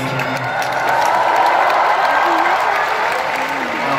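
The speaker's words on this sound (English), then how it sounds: "So a round of applause to yourself." Concert audience in Manila applauding and cheering for a band, a dense, steady roar of clapping and shouting that fills the whole stretch at close, loud level.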